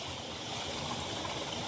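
Irrigation water pours steadily into a wheat field, one flow split between two channels into a small tank, heard as a continuous broadband rush and gurgle that is close and even in level, with no talking.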